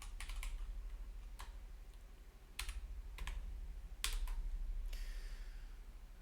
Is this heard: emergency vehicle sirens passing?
no